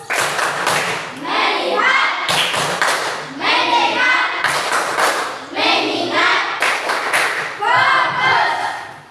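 Hand clapping in a classroom clapping game, with sharp rhythmic bursts of claps in quick groups repeating across the span under a teacher's and children's chanting voices.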